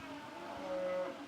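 A domestic buffalo gives a single drawn-out moo, fairly close and clear against a quiet background.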